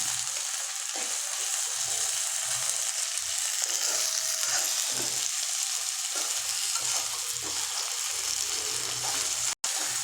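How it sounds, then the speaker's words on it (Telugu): Chopped ivy gourd (tindora) frying in oil in a pan gives a loud, steady, close sizzle that hisses evenly throughout with no pauses, and a single brief click near the end. "అందులోకి కట్ చేసి పెట్టుకున్న దొండకాయలు వేసి ఫ్రై చేసుకోవాలి"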